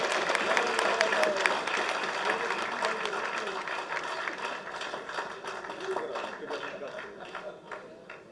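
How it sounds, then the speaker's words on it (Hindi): An audience applauds a speaker at a political gathering in Pakistan, dense clapping that is loud at first and gradually thins out, with some crowd noise mixed in. "आपकी तालियों की गूंज में"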